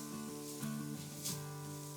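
Capsicum with salt frying in a pan, giving a soft, steady sizzle and hiss with a couple of brief louder bursts, close and fairly quiet.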